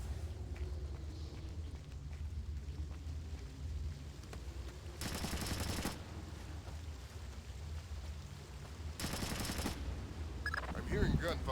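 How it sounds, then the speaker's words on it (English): Gunfire in the stealth game Splinter Cell: Chaos Theory, two bursts of rapid automatic fire a few seconds apart, muffled and distant-sounding over a steady low ambient rumble. "I'm hearing gunfire down there"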